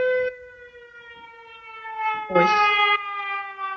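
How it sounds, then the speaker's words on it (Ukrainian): An air raid siren in Ukraine rings out as a sustained, steady wail with a strong, even tone, fairly loud and close. Someone speaks briefly over it. "О, повітряна тривога."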